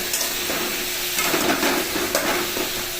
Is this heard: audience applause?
no